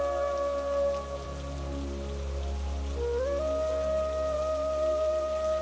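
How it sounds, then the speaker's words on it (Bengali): Light evening drizzle from a Bengali horror cartoon set in a sal forest: a steady, soft patter of rain continues throughout, with a sustained tonal drone beneath it. "সন্ধ্যের সময় ঝিরিঝিরি বৃষ্টি পড়ছিল।"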